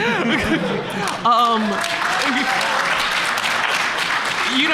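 Applause from an audience fills the clip, steady and dense, with a few voices briefly audible underneath.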